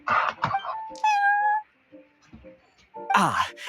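Cat meowing in the Genshin Impact video game, a drawn-out tonal meow in the middle with shorter cat cries at the start and end, mixed with speech.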